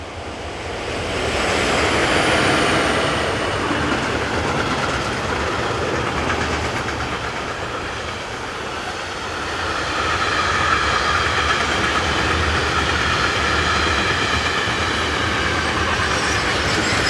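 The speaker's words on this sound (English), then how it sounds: "Class 620s are common on this line, sometimes seen in tandem with a Class 420." A Swiss Class 620 locomotive hauls a train on the Olten to Oensingen main line. The roar of rolling wagons and the rumble of wheels on rail carry on steadily for the whole stretch, rising again toward the end.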